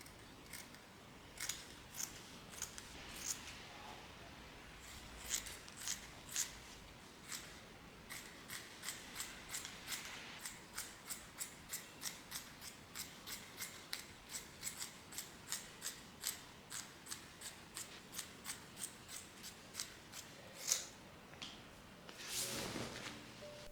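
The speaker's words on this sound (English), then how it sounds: "The sound of my scissors cutting the fabric was just so satisfying" Scissors snip through fabric for a sewing project, a long run of crisp, evenly spaced cuts in a steady rhythm, close and clear with no talking.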